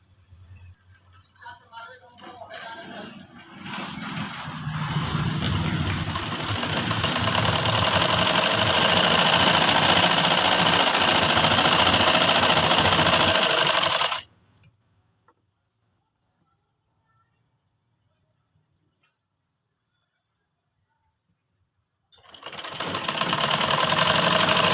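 An electric sewing machine stitches a kurti sleeve seam toward a chalk mark, running loud and steady for several seconds, stopping dead into silence, then starting again near the end.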